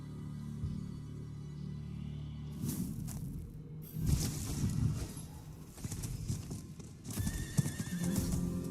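Horse hooves clip-clop at a gallop in Diablo IV, with whinnies and neighs over a steady game backdrop, the hoofbeats swelling in loud bursts.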